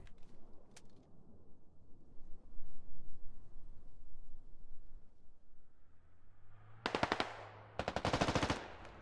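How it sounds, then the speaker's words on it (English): Machine guns fire from pillboxes in the Squad game, heard as two sharp rapid bursts of gunfire near the end after a quiet stretch of faint background rumble and scattered distant shots. "MG's in the pillboxes up front"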